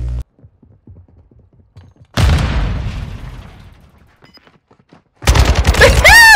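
A grenade explodes in a shooter video game, a sudden loud blast followed by a long decaying rumble, then another burst of gunfire and mechanical clatter after a near-silent pause.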